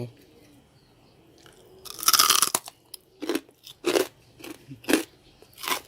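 Loud, close crunching as crispy Thai fried pork belly is bitten and chewed, a burst of crackly bites followed by several distinct rhythmic chews, with a faint voice at the start.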